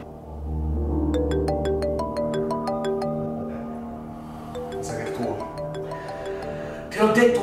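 A mobile phone ringtone plays a tonal melody of repeated notes, fairly loud and close, with voices and rustling joining near the end.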